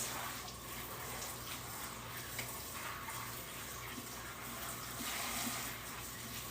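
Water running steadily in a kitchen sink while tie-dye fabric is rinsed, a continuous faint hiss and splash with no talking.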